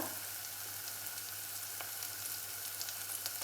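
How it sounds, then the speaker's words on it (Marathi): Ground masala for Satara-style urad ghuta sautéing in a pan after cumin has crackled, a faint, even sizzle with a low steady hum underneath and occasional light crackles. "जिरे तडतडल्यानंतर आपण जो वाटून घेतलेला मसाला आहे तो ॲड करायचा आहे आणि आता आपल्याला साधारण 2 ते 3 मिनिटं याला परतून घ्यायचं आहे"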